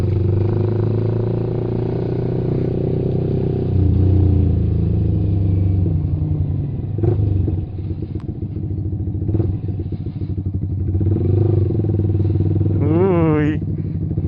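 A sports motorcycle passes on a road during a group ride, a steady near engine rumble with clattering and shifting revs, while people talk over it.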